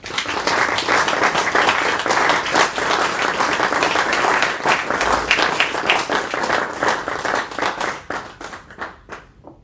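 A room of attendees at an NHS trust board meeting claps together in dense, steady applause that carries on for several seconds before thinning into a few scattered claps and stopping.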